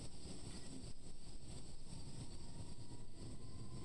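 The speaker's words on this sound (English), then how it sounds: "Alright, so we got the county fire helicopter." County fire helicopter in an emergency-response video game, giving a steady, dense rotor and engine roar that stays loud and unbroken throughout.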